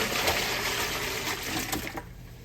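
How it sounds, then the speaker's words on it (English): Turkey brine is poured over a turkey breast, a steady close splashing gush of liquid that runs for about two seconds, then cuts off. "And we're going to pour the whole brine right on top."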